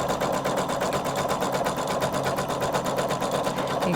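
A Husqvarna Viking embroidery machine with a felting set stitches steadily, its fast needle chatter running loud and even throughout without pause.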